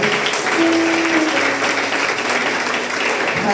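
A church congregation at a Sunday service applauding, dense steady clapping from a large crowd filling the room, with some voices mixed in.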